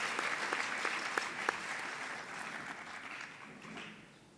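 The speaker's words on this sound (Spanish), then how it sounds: "Le damos un fuerte aplauso" Audience applause at a theological colloquium, a dense wash of clapping hands that starts full, with a few sharper claps standing out, then gradually thins and fades over about four seconds.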